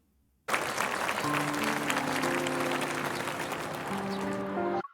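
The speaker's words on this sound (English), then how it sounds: "Applause erupts in a continuous stream of admiration." A crowd breaks into loud, sustained applause that starts abruptly and holds steady for several seconds before cutting off.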